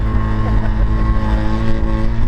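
An abandoned rotary-engine pickup truck driving at a steady cruise in freezing cold, a loud, dense, buzzy engine drone with strong low rumble and even tone throughout.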